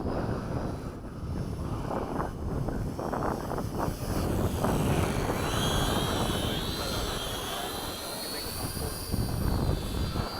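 Small radio-controlled Hobby King Mini B-17 model bomber with four electric motors flying in gusty wind, a steady buzzing motor drone that rises and shifts in pitch as it passes, with wind noise on the microphone and occasional voices.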